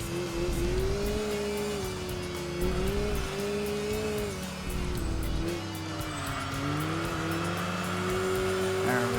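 Tires squeal steadily through a slight drift in the Enthusia racing game, a sustained high whine riding over a loud, continuous car engine drone for the whole stretch, with no talking.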